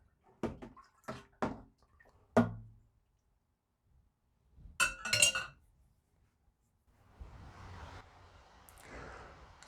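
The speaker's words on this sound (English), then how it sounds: "And just give that a quick little stir." A spoon stirs dark cherry wine must in a glass jar, giving a quick run of close, bright clinks and taps against the glass, followed by softer swishing liquid noise.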